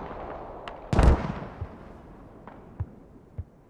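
Mortar rounds exploding in the tactical shooter game Squad: one heavy blast near the start, then three smaller distant thuds spaced apart, with no talk.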